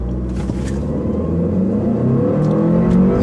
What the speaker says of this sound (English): I'm still going to rev it a little bit and see what happens off the line